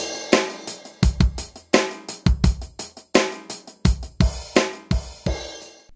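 Drum kit loaded in Native Instruments Battery 3 playing a groove of punchy kicks, snares and cymbal hits in a steady rhythm, dry and close with no talking.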